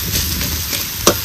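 Turmeric and spices being stirred in hot oil in a pan, giving a soft, close sizzle with brief scraping stirs and one sharper clink near the end.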